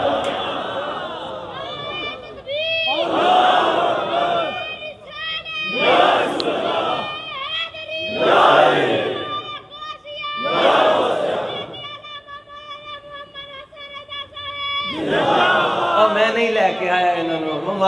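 A large crowd at a religious gathering chants slogans in repeated loud bursts, with several swelling waves of massed voices separated by brief lulls and echoing reverberation.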